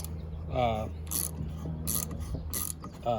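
A hand tap cuts threads into the oil outlet hole of a four wheeler, giving repeated ratcheting, grinding metal clicks in short bursts with a few sharp high scrapes, close up and alone.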